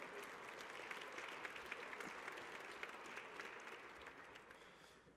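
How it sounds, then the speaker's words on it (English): Sustained audience applause for board members at a corporate meeting, dense steady clapping from a sizeable crowd that slowly fades toward the end. "Let's give them a round of applause."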